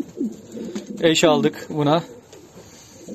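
Fancy pigeons of the Hunkari and Modena breeds coo loudly and close by in two drawn-out rolling calls, with someone talking around them.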